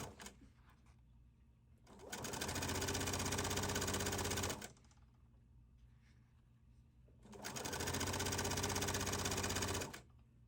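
Two steady runs of a sewing machine, each lasting about two and a half seconds, stitching a rolled hem on a Hawaiian shirt. Low background noise fills the pause between them.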